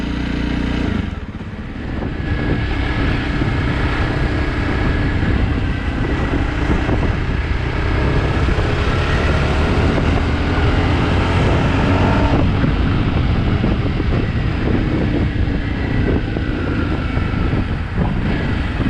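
A 2021 Jawa Perak motorcycle engine drones steadily and loudly throughout, its pitch shifting slightly as the bike slows and makes a U-turn.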